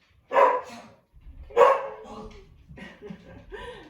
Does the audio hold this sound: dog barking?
yes